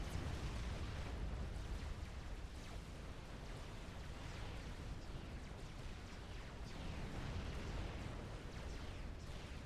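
Dense, continuous battle din from Supreme Commander: Forged Alliance, with artillery guns and point-defense turrets firing into an army, a steady roar of overlapping explosions and booms with no pauses, loud throughout.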